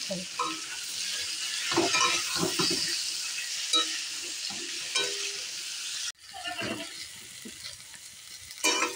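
Steady sizzle of young jackfruit frying in a pan with salt and turmeric, with scraping stir strokes, a brief break near the end before the crackle resumes close by.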